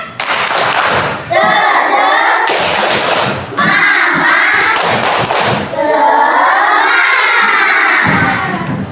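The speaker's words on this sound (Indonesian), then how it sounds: "Kita sama-sama tepuk semangat, mau?" A class of children doing the 'tepuk semangat' clapping chant: loud rhythmic bursts of clapping and thumps alternate with shouted, cheering chant phrases, close and energetic throughout.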